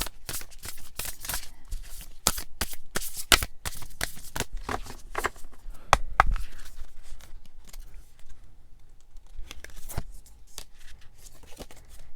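Tarot cards are shuffled by hand close up in a run of quick, crisp riffles and slaps, louder in the first half and sparser later, with no voices.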